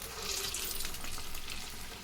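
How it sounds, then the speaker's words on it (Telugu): Urad dal vadas fry in hot oil in a kadai on the stove, giving a steady, dense sizzle that holds at an even level throughout with no talking. "మనం స్టవ్ మీద కళాయి పెట్టి ఆయిల్ వేడెక్కినాక అన్నీ ఇదిగో ఇలాగా అదే విధంగా వేసుకోవాలండి"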